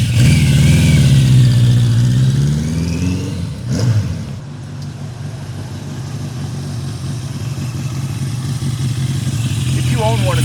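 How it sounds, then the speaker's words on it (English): A 1982 Yamaha Maxim 650 motorcycle engine accelerates loudly up close, then fades into a steady running drone as the bike rides on. "Let me give you a quick riding demo."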